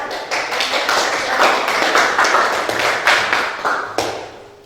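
A classroom group claps hands together: close, loud, fairly sparse individual claps forming an uneven rhythm, swelling and then thinning out toward the end.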